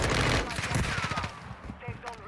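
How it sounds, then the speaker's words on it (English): Rapid automatic gunfire and scattered shots from the video game Warzone 2 crackle loudly and densely at first, then thin into sporadic bursts, with a voice talking underneath. "We've got gunshots going off to our left,"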